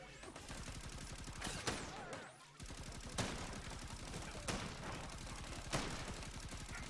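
Rapid repeated gunfire in the Block N Load video game, a dense stream of sharp shots fired at a turret, punctuated by a few louder single cracks and a brief pause, continuous and close.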